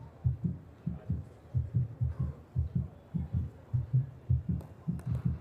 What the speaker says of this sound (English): waiting for the heartbeat, and waiting for the review?